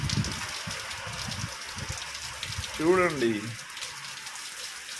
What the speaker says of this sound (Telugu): హైదరాబాద్లో వర్షాలు స్టార్ట్ అయ్యాయి ఈరోజే